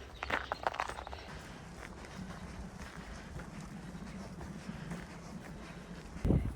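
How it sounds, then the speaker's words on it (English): Steady wind rushing past the microphone on a hike, with crunching footsteps at the start and a louder gust near the end. "it is windy right now"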